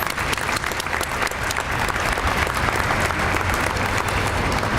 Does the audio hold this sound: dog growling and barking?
no